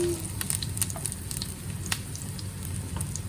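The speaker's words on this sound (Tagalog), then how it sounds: "Ayan, magigisa na po tayo." Garlic sautéing in a hot pan: a close, steady sizzle and crackle with small pops and scattered stirring clicks, continuous for a few seconds with no talk.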